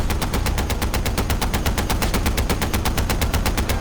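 A mounted turret machine gun in the Far Cry 4 video game fires one long, continuous, loud burst of rapid evenly spaced shots, heard alone without voices.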